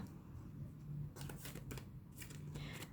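Tarot cards being shuffled and laid out, heard as a few close, papery riffling bursts and soft slaps over a quiet background.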